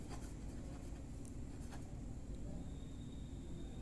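Chalk or marker writing on a classroom board, faint scratchy strokes in short bursts over a quiet hiss of room noise, without talk.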